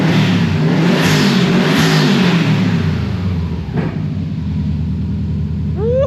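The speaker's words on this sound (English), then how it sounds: "so I'm gonna rev it a little bit" A Subaru GC8 RSTI engine revs up close and loud, with a couple of rising pulls before settling into a steady, rumbling idle.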